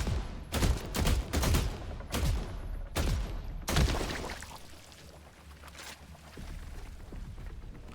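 Game gunfire in bursts of sharp, loud shots packed close together for several seconds, then a quieter rumbling stretch afterward.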